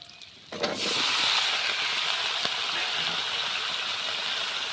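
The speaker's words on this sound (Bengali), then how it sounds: "পেঁয়াজটা হালকা হালকা করে ভেজেছি, ওর মধ্যে দিয়ে দিচ্ছি ধুয়ে রাখা পুঁই ডাঁটা, আলু" Malabar spinach stems and potato pieces drop into a pan of lightly fried onions in oil, erupting into a steady, loud hiss of frying that holds evenly after a brief clatter.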